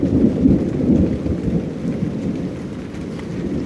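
Rain falls outside a yurt during a storm, a loud, continuous wash of drops and low rumble that eases slightly toward the end, with no one talking.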